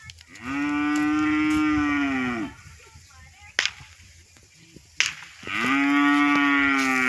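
Cattle in a cow shed give two long, loud, close moos separated by a pause, with a couple of sharp knocks in the quiet gap.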